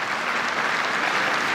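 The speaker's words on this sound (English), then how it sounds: "we hear the rapturous applause from the fans here at Trent Bridge" Cricket fans at Trent Bridge during an England versus New Zealand Test applaud warmly, a steady wash of crowd clapping spread across the ground.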